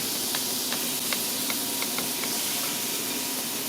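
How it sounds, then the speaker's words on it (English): Butter and olive oil sizzle together in a pan, ready for cooking mushrooms: a steady, dense hiss runs throughout, dotted with a few small pops. "I'm going to melt my tablespoon-ish of butter and give it about another tablespoon, half tablespoon of olive oil"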